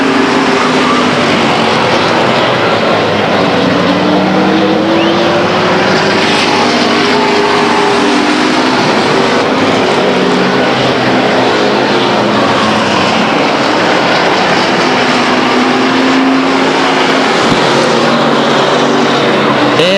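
Race cars lap the Stockton 99 Speedway oval, their engines a loud, sustained droning roar that swells and wavers as cars pass, unbroken for the whole stretch.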